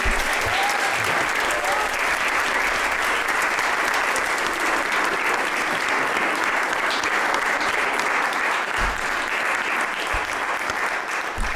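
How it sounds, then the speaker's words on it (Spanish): Sustained, dense audience applause at an art retrospective honouring a flamenco dancer, loud and continuous without pause, with no talk over it. "Para ella, para ella, para Danila, un gran aplauso."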